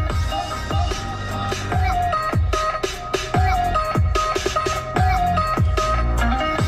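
Music plays through the factory speakers of a Chery Tiggo 5X with the windows closed, filling the cabin with a steady beat and melody.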